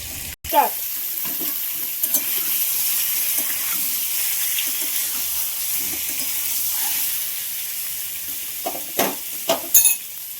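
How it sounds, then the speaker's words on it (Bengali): Cubes of paneer frying in hot oil give a steady broadband sizzle that holds throughout, with a few brief utensil clinks and knocks now and then. "তো আমি আপনাদেরকে দেখাচ্ছি পনিরটা ভেজে নিই।"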